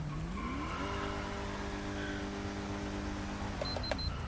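Engine of a blue-liveried Dodge Charger police car in the video game GTA5, revving from a low pitch up to a steady sustained drone that holds for several seconds, then drops back, with a few brief clicks near the end.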